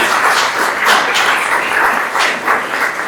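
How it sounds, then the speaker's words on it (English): Conference attendees applaud after a talk at a NetLogo conference, producing a fairly loud, continuous patter of clapping that rises and dips slightly over a few seconds. "let's give another round of applause."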